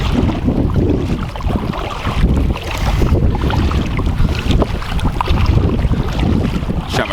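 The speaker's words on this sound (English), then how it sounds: "And here comes the wind." Strong wind rushes steadily across the microphone on a kayak trip on a UK waterway, a loud continuous roar with gusting surges and faint water sounds beneath.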